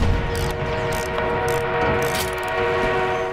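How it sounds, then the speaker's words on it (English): An enemy armored train in the Battlefield 1 video game rumbles and clanks steadily, a dense continuous mechanical clatter of rail wheels and machinery, loud and close with no talking. "An enemy armored train is on you."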